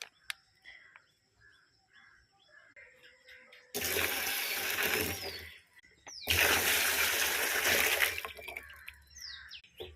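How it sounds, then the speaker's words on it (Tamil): Two long bursts of rushing, splashing water pour into a 200-litre tank, separated by a brief pause, with quieter background noise and faint chirps around them. "இது 200 லிட்டர் தண்ணி ஃபில் பண்ணிக்கிறோம்"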